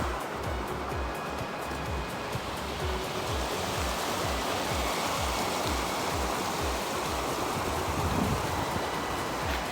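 A mountain stream in Kyrgyzstan rushes close by in a steady, unbroken roar of flowing water, with no voices over it.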